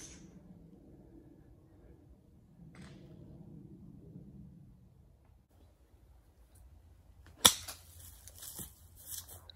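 A golf club strikes a ball on the course at Coulsdon Manor golf club, one sharp crack that rings out near the end after quiet outdoor murmuring and faint voices.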